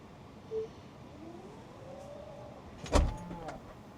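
Powered tailgate of a Tesla Model Y closing, a faint whirring electric motor hum rising and falling in pitch, ending in a soft thud and brief latch sound, quiet inside a car setting.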